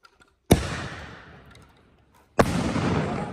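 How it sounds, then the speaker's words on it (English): Salute ball shell fireworks explode outdoors in two loud, sharp booms about two seconds apart, each followed by a long rumbling echo that fades slowly. "Bang bang shells."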